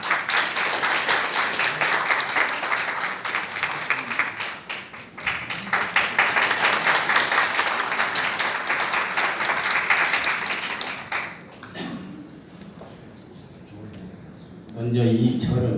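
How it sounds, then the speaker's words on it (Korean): An audience at a gathering in the National Assembly hall in Yeouido applauds warmly as a Buddhist monk is introduced, a long stretch of dense clapping that fades out, followed by a voice speaking briefly. "뜨거운 박수 부탁드리겠습니다"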